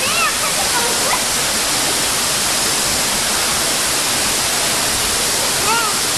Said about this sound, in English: You can see the waterfall there